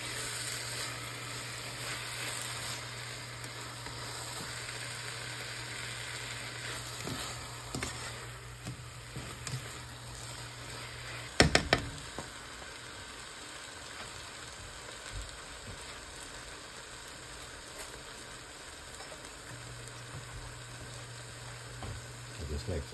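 Shrimp sizzle in a pan of pumpkin as they are stirred in, a steady frying hiss with occasional spoon scrapes and a few sharp clanks midway.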